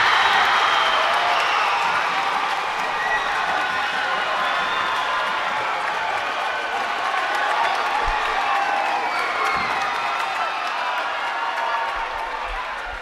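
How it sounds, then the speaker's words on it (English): A crowd at a high school boys basketball game, Roseburg against Sheldon, roars after a steal, a loud sustained swell of cheering and whooping that slowly eases off, with faint court thumps beneath. "it's just the crowd getting excited as Colin heads back to the free throw line"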